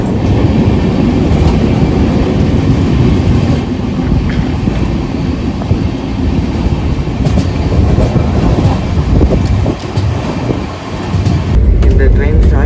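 Chennai to Sainagar Shirdi Express train running through Maharashtra, a loud steady rumble with rattling carriages and clickety-clack from on board, continuous throughout.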